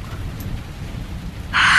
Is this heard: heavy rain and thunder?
yes